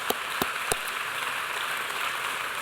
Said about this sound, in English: let's give a round of applause for all of our veterans